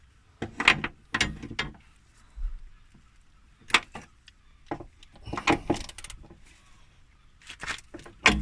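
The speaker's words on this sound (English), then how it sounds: "hand tight with the ratchet, you'll be fine" A ratchet tightening a suspension bolt on an N16 Nissan Almera, heard as several separate bursts of close mechanical clicking and rattling with quiet gaps between them, no talk.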